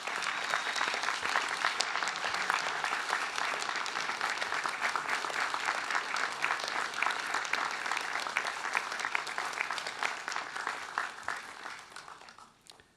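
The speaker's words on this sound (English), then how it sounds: "Give them a rousing round of applause as well," Graduation ceremony audience applauding a university design, architecture and building class, a dense, steady wash of many hands clapping for about twelve seconds before tapering off at the end.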